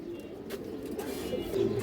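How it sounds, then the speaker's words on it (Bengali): A pair of high-quality army pigeons coo softly in a loft, low rolling coos repeating close by over a steady background hum, with no talking. "একজোড়া হাই কোয়ালিটি আর্মি কবুতর"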